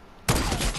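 A sudden burst of rapid gunfire in the battle royale game Fortnite erupts after a brief quiet moment and then holds loud and dense to the end.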